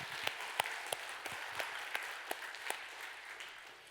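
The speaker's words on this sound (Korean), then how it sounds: "이 교회가 떠나갈 만큼 하나님 감동받으시는 박수로 한번" A church congregation at a Sunday worship service applauds together, with a soft, distant wash of clapping and a few sharper individual claps standing out.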